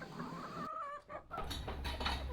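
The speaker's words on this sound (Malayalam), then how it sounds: "എടി ദീപാനെ, നീ ഈ കോഴികൾക്ക് എന്ത് തീറ്റ കൊടുക്കുന്നേ?" Chickens cluck nearby in a short, faint burst of calls against background noise.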